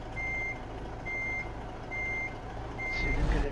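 Truck reversing alarm in American Truck Simulator: four evenly spaced electronic beeps over a low engine rumble, loud and close, with no talk.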